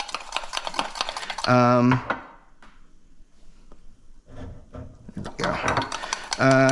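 Vigorous stirring and whipping of coffee foam in a glass Pyrex dish, rapid scraping clatter in bursts between stretches of quieter activity, with a voice talking in between.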